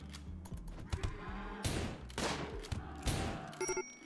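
Chaotic video game battle in RimWorld as a muffalo herd charges under gunfire, with rapid bursts of shots, animal bellows and clattering impacts layered in quick succession.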